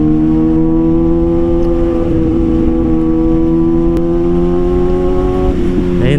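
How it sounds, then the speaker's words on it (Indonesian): A Kawasaki ZX6R motorcycle with a quickshifter holds a steady, loud engine drone at constant revs, with a brief change near the end as it shifts, and no clear exhaust pops. "Jadi kadang knalpotnya agak meledak kalau kita pakai quick shift itu."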